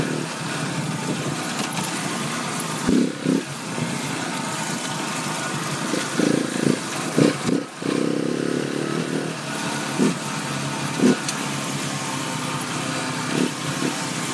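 A KTM 690 Enduro motorcycle rides a bumpy off-road cross-country course, its engine droning steadily with repeated short surges and dips in revs.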